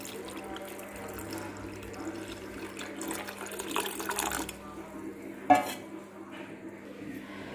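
Soaked tamarind water is poured into a bowl in a home kitchen, a soft, close splashing pour that swells and fades, followed by a single sharp clink of a utensil against the dish.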